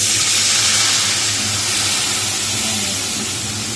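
Water poured into hot oil in a pan, ahead of mustard paste, bursts into a loud, steady, close sizzle and steam hiss that fades a little over a few seconds, with no one talking.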